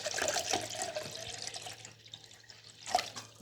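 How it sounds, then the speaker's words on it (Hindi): Chilled water poured into a juicer for guava juice, a steady splashing pour that fades after a couple of seconds, with a brief clink near the end. "तो ये मैं जूसर के अंदर चिल वाटर डाल दी हूँ।"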